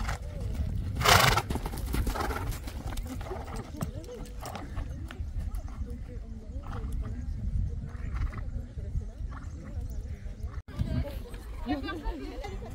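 Hooves clop on the ground while a horse whinnies near the start at an equestrian competition, with a crowd chattering and talking throughout in the background.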